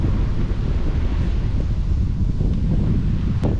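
Strong wind sweeps across an open field and buffets the microphone in a loud, low, constant roar, with one brief sharp click near the end.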